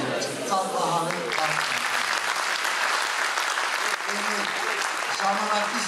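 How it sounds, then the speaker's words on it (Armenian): Sustained, dense applause from an audience at a Christmas 2016 celebration, steady and full throughout with brief faint voices and tonal traces beneath the clapping. "Ամեն ծափահարել"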